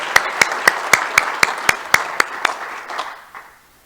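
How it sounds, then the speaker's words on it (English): Applause at a Rotary club meeting, a small group clapping in a quick, fairly regular rhythm that thins out and fades away toward the end. "but let's still give them a round of applause."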